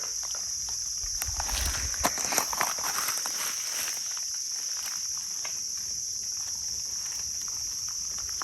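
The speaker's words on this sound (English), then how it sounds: "I can hear the bugs, but they're not getting us" Insects chirp and buzz beside a creek in Indiana, a steady high drone throughout with occasional nearby footsteps and crunching on stones.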